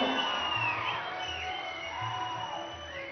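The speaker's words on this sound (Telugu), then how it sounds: "ఒక్కసారి గట్టిగా చప్పట్లు కొట్టి మనం శుభాకాంక్షలు అందజేద్దాం" A large audience at a Telangana government felicitation for Padma award recipients claps and cheers in a steady, continuous roar that holds at an even level the whole time.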